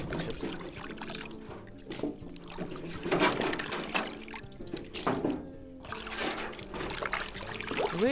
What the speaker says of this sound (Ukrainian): Зараз перемию стебла ревеня